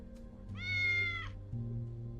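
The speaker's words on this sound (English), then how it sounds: "Meow." A cat meows in the video game Tales of the Neon Sea, one clear drawn-out meow over a steady low game soundtrack.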